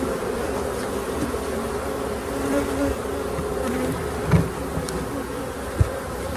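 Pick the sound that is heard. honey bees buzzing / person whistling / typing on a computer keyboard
honey bees buzzing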